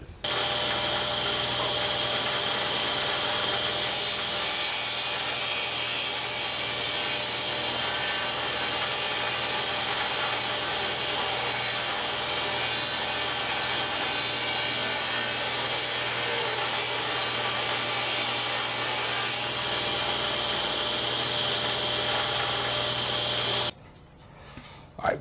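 Boards for a shop cabinet build fed through a table saw and planer in a workshop, a loud steady machine whine and cutting roar that runs for over twenty seconds before cutting off abruptly.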